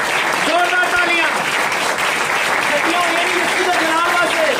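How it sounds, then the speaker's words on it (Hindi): A congregation at a Good Friday church service claps loudly and continuously, the dense applause running the whole stretch with voices rising and falling above it. "जोरदार तालियां।"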